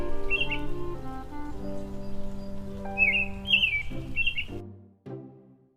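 A small blue bird sings bright, high chirps and whistled notes in short bursts over a held musical backing, the tune fading out before a final low note.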